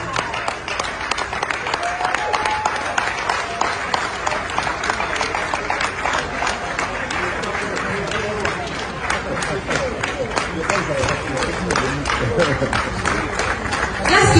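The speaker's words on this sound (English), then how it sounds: "Let's keep that applause going." An audience gives sustained applause at an award ceremony for a legendary actor's lifetime achievement award, with continuous dense clapping and cheering from a large crowd in a hall, loud and unbroken, with voices mixed in.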